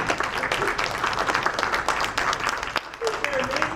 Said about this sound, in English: Can we give them a big round of applause already?